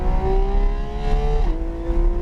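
Car accelerating out of a corner on a race track, engine droning in a steady rising pitch, then a quick gear change drops the tone before it climbs again, loud and close with road rumble underneath.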